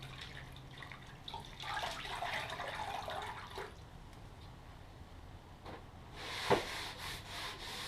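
A damp sponge rubs back and forth across HardieBacker cement board in a bathroom remodel, a steady close scrubbing with a brief faint squeak near the end, with no talking.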